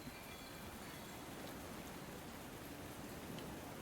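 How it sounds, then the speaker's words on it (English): Steady rain falling in a video game, a dense even hiss of drops on surfaces that carries on unbroken at a soft, distant level with no voices. "Oh, it's rainy today."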